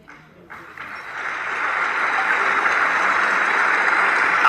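An audience at a Hindi-language speech claps, starting faintly and swelling into sustained, dense applause that holds steady for several seconds, with no talking over it.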